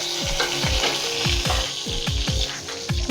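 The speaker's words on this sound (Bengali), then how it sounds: "আর এই তেজপাতা, গোটা জিরে আর দারচিনিটা দিয়ে দেবো।" Bay leaf, whole cumin and cinnamon sizzle in hot oil in a kadai for a prawn curry, a close, steady frying hiss dotted with rapid repeated ticks and pops.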